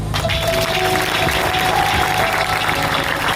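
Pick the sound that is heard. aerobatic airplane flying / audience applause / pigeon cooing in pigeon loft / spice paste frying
audience applause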